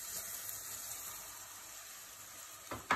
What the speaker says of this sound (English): stir fry the mushrooms with olive oil, garlic, fresh oregano, and just let it sizzle